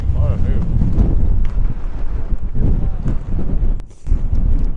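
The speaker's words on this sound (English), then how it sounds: "The wind's getting that strong, it's starting to shove you on your feet." Strong wind at Ladybower Reservoir in the Peak District buffets the microphone in heavy, continuous low rumbling gusts, with a brief lull near the end before it roars back.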